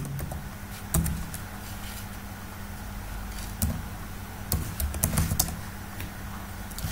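Keystrokes on a computer keyboard while an SQL Server query is written, a steady patter of fairly quiet clicks with a few louder bursts, no talking.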